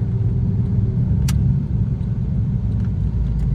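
A steady, deep engine rumble from inside a moving 2000 Porsche 911 Millennium Edition, loud and continuous, with a few brief clicks and no talking.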